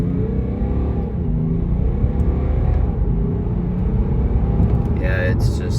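A 2018 BMW 540d xDrive diesel, US model, accelerates uphill in a short burst, its engine a steady loud rumble heard from inside the cabin with a voice talking over it.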